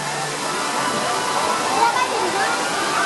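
The lazy river at Dam Sen water park in Ho Chi Minh City, Vietnam, flows with a continuous sloshing rush of moving water. A voice is faintly present beneath it.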